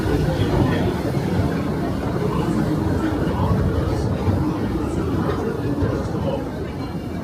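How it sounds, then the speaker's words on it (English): Steady low rumble of a Disneyland Railroad train rolling into New Orleans Square Station, with continuous rail noise and faint squeals above, holding level throughout. "please remain seated until the train comes to a complete stop"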